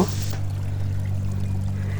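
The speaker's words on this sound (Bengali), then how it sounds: "মশলাগুলো যেন পুড়ে না যায় তার জন্য সামান্য পরিমাণ পানি মিক্স করে নিব" A short pour of a little water into spices cooking in a pan for a Bengali koi fish bhuna, a brief splash at the start followed by a steady low hum.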